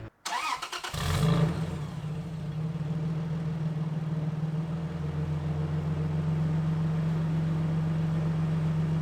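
A Toyota Tacoma pickup's engine with a custom exhaust cranks and fires up, then settles into a steady, throaty idle with a deep exhaust rumble that holds loud and even.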